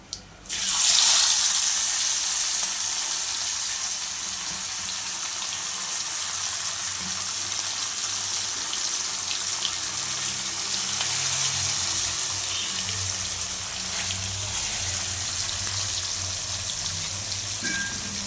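Fish fries in a pan for a fish fry dish, a steady broad hiss and sizzle running throughout at close range with no talk.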